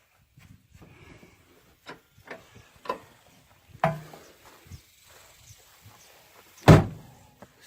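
A car door on an old Ford Country Sedan barn find shuts near the end with a single solid, close thud. Softer clicks and small knocks come before it in a quiet setting.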